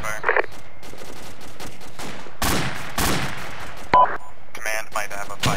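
Video game gunfire comes in repeated heavy bursts and crackling volleys, loud and fairly close, with voices mixed in.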